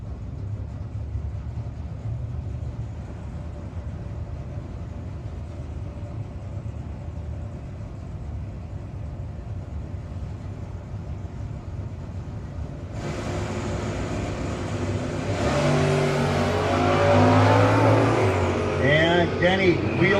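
Chevy 2 hot rod launching at a no-box drag race, a loud engine roar bursting in after a long rumbling stretch and sweeping up in pitch through gear changes, heard over an announcer's voice.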